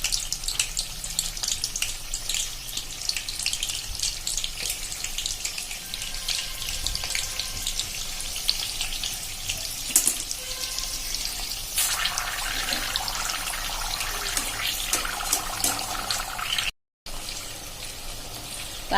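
Stuffed eggplant bhajiya frying in hot oil, a steady, close hiss and crackle of bubbling oil running throughout with occasional louder pops.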